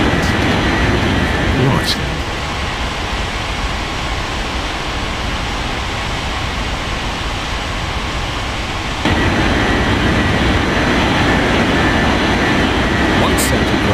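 An airliner taking off from runway 14 left at Sao Paulo roars as a loud, steady broadband rush that strengthens partway through, while a brief spoken word sits over the noise.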